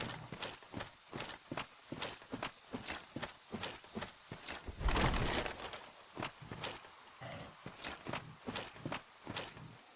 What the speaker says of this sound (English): As you hear my heavy footsteps